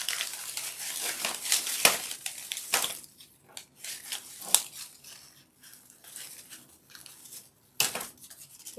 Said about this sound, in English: Just going to use my cutters here. And I'm going to cut them into pieces.